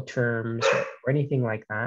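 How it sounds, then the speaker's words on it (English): A puppy yips and whines in the background of an online information session, with short high bursts that overlap a person speaking. "Apologies if you hear a puppy in the background."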